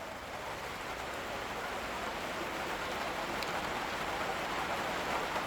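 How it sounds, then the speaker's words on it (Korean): Steady rain drums on the roof of a farm greenhouse, a dense, even patter of drops that continues throughout with no talking. "하우스 위에 빗 떨어지는 소, 빗 떨어지는 소리가 엄청 정겹습니다"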